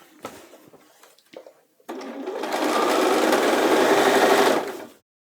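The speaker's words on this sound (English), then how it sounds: "So I'm stitching on the right side of the pants, the right side of the fabric, but from the inside." A sewing machine runs one continuous burst of about three seconds, stitching the right side of pants fabric from the inside along the crotch curve. A few quiet handling taps come first, then a steady loud whir that stops abruptly.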